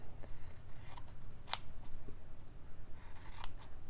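Scissors make several quiet snipping cuts through fabric squares, with a sharper single snip partway through and soft rustling between the cuts; nobody talks.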